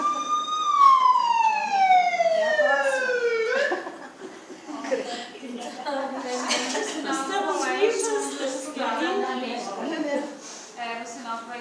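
An ambulance siren wails with a falling tone, then gives way to people talking and laughing with chatter over a continued background.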